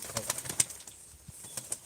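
Soft, irregular bursts of pigeon wings flapping, a few brief fluttering flurries close by against a quiet background.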